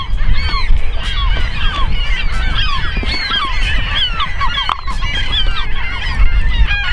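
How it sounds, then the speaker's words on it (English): Seagulls crowd around a geocache site, their harsh calls dense and overlapping, loud and close, with no pause across the whole stretch. "These seagulls are super annoying."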